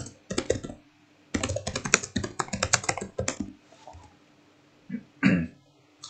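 Rapid bursts of keystrokes clatter on a computer keyboard while a form title is typed, close and crisp with short pauses and a throat-clear near the end.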